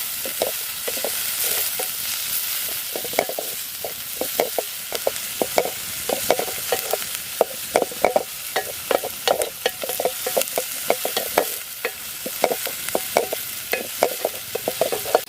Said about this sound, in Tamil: இப்போ வந்து வெங்காயம் வந்து நல்லா வதங்கிச்சு